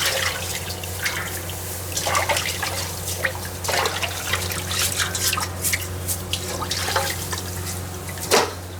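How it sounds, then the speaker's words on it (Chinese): Pork belly being rinsed with hot water: running and splashing water with drips and irregular sloshes, close and fairly loud, continuing throughout without talk. "用热水把肉洗啊"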